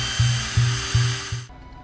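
A drill boring into a skull during a brain surgery scene in a thriller film: four short, loud, buzzing bursts in steady rhythm, each around a third of a second, with a low hum beneath, ending abruptly.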